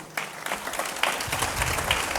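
Steady applause from an indoor audience at a mano a mano talk marking the 125th anniversary of the bullring in Sanlúcar, even and unbroken for the whole two seconds.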